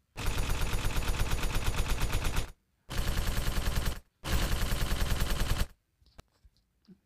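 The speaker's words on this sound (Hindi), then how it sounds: "हम फायर भी करना स्टार्ट कर चुके हैं" Three long bursts of rapid automatic gunfire ring out in the zombie game Zombies Road Kill, each a loud, continuous stream of shots separated by short silences, followed by a few faint scattered clicks.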